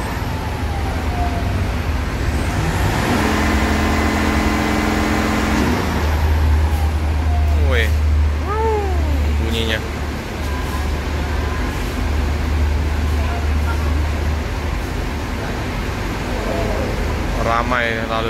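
Rosalia Indah buses edge out into heavy street traffic, engines rumbling low and steady with passing vehicles, an air-brake hiss and short horn-like tones, while someone talks over the constant noise.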